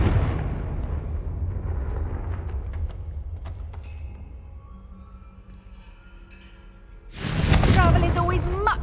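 The Confringo blasting spell explodes in Hogwarts Legacy: a sudden loud, bright burst near the end, after a quieter stretch of rumbling game ambience and scattered clicks.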